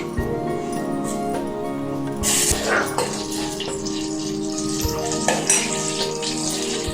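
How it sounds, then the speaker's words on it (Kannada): Butter melting in a pan while making barbecue sauce gives a soft, continuous frying sizzle with a few clinks of utensils, under steady background music. "ಈಗ ನಾನು ಇದಕ್ಕೆ ಬಟರ್ ಹಾಕ್ಕೊತಾ ಇದ್ದೀನಿ"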